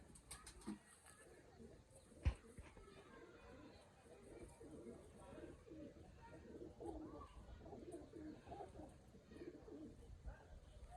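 Soft, low pigeon cooing repeats through the background, faint and steady, with a sharp knock near the start and muffled sounds around it.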